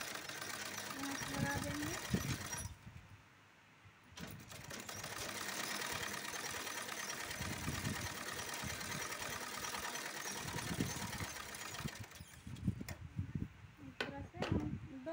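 A sewing machine runs steadily while stitching fine double seams along a belt, a continuous close mechanical whir with a brief pause near the start, and someone talks over it.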